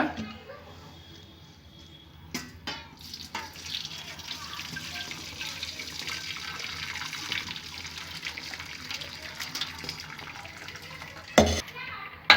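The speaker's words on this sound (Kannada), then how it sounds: "ನೀರನ್ನ ಈ ರೀತಿ ತೆಗೆದು ಚೆನ್ನಾಗಿ ಸೋಸ್ಕೋಬೇಕು." Cooked greens being strained through a mesh sieve set over a pot, their cooking water pouring and trickling in uneven bursts, with clattering of the vessel and someone talking intermittently throughout.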